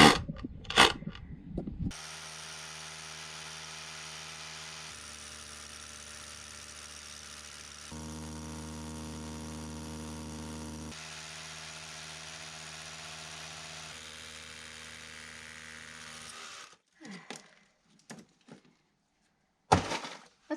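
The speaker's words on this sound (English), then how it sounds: "I brought out the big drill bit, and it seems to be working pretty well." A power drill with a large bit grinds steadily for about fifteen seconds, its low droning pitch shifting in stages, then stops, followed by a few scattered knocks and handling noises.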